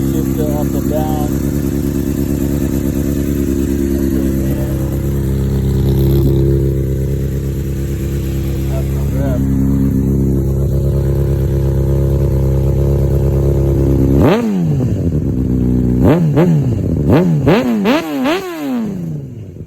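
A 2013 Honda CBR 600 RR special edition with a GP shifter is cold-started and settles into a loud, steady idle, then is revved hard several times in quick, sharp bursts near the end.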